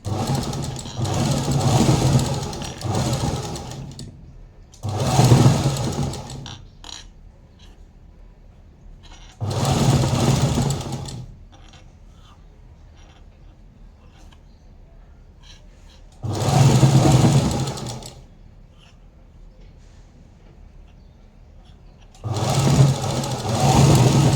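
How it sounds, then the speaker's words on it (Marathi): An electric sewing machine stitches a folded fabric strip while making a puff-sleeved blouse, running in loud, close bursts of rapid whirring several seconds long, separated by quiet pauses. "आता फोल्ड करून शिलाई मारून द्यायची"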